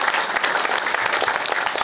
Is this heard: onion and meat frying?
no